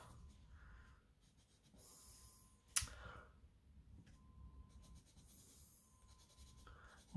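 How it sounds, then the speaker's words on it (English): Graphite pencil scratching and scribbling across paper in short bursts, with one sharp click partway through; the strokes are close and faint, with no one talking over them. "I was going to try this pencil out, this magic pencil"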